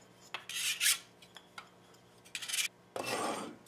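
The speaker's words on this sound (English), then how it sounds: "We'll use this rasp to smooth out the edges." A hand rasp scrapes along the edges of a hardened ear mold in several separate bursts of rough, gritty strokes, close and fairly loud, with a longer sustained rasping stretch at the end; nobody speaks.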